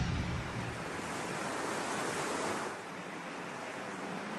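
Sea waves and wind at an offshore wind turbine installation site near Yangshan island, a steady broad wash of surf and gusting air, fairly faint and continuous, easing slightly after a few seconds.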